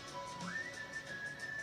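A person whistles faintly, holding a single note and then gliding up to a higher sustained pitch.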